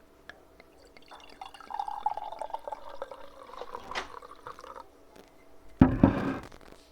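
Blakeney Red perry from Ross-on-Wye is poured into a glass, a soft trickling and bubbling stream that runs for several seconds before a sharp clink of glass near the end, in an otherwise quiet room.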